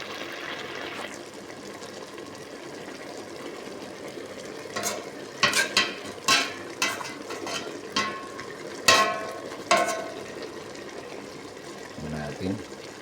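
Bitter melon stir-fried with shrimp and egg sizzles steadily in a pan, a constant frying hiss with a run of sharp utensil clinks and scrapes against the pan partway through.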